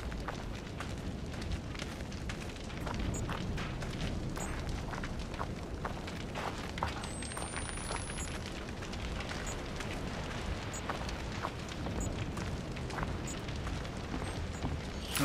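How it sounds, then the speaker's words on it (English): Fire burns in the horror video game Outlast 2, a steady, dense roaring crackle with scattered pops that holds at an even level throughout, with no talk over it. "There's a bit of fire down."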